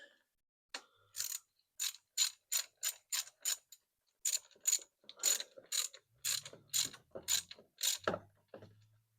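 A ratchet clicks in quick bursts while a bolt is tightened on a Nissan S15 Silvia, with rapid loud strokes separated by short pauses and a few softer clunks near the end. Nobody talks.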